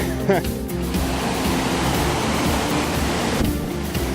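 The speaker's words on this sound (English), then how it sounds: "knee deep or maybe deeper, fast flowing water" Fast-flowing river water in Linville Gorge, a steady broadband rush of current that stays loud and continuous throughout, close by with no pauses.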